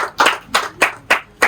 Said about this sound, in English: Please clap for our effort.